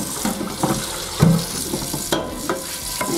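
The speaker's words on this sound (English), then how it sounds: "you get my sprayer out and get all that off" A kitchen sink sprayer rinses a cast iron skillet, a loud continuous rushing spray with small scraping and splashing bursts close by.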